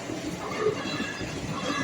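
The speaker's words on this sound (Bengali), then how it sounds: "পাশ থেকে ট্রেন যায়" Train passing beside Baidyabati station in Hooghly, a steady rumbling rush of wheels and carriages with a faint high squeal, moderately near and continuous for the short stretch.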